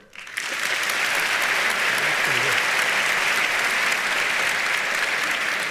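An audience at a storytelling event breaks into applause after a brief quiet start, then keeps clapping loud and sustained for several seconds without talk.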